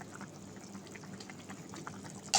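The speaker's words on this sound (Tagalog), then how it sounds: "Kumukulo na ang ating ginisang gulay." A pot of sautéed vegetables, ready for sotanghon glass noodles to go in, simmers with a faint, steady bubbling and light crackle, ending on a sudden sharp clack.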